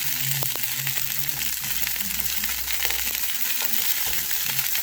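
Vegetables roasting for salsa in a pan over medium heat, a steady close sizzle and crackle with occasional soft scraping as pieces are turned, and no voices.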